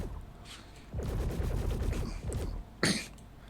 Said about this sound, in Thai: เป็นเลเซอร์ลิมิเตอร์นี่คืออัตรายิงของมัน จะค่อนข้างรัวนะครับ